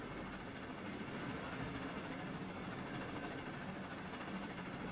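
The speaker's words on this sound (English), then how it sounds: "There's our train." A train rolls past in Trainz Simulator 3 on a German line, a dense, steady rumble of wheels and engine that stays loud and close without pause.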